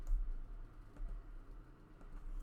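Keys clatter on a computer keyboard in quick, light, irregular taps, close and quiet over a faint room background, with no voices.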